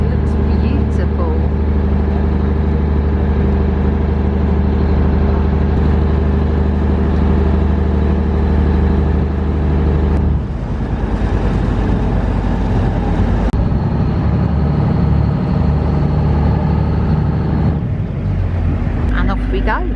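A small boat's engine drones loudly and steadily throughout, a constant close mechanical hum with occasional shifts in tone.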